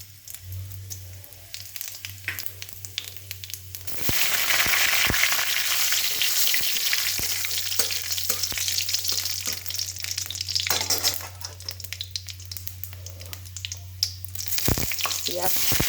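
Cumin and whole garam masala crackle and sizzle in hot oil in a kadai, the frying loud and steady after a quieter start, with a low constant hum underneath and occasional stirring clicks.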